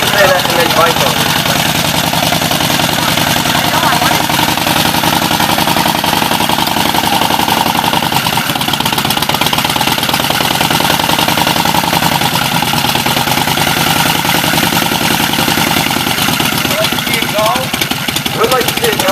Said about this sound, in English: He's actually going to run this 1913 Excelsior in just a moment.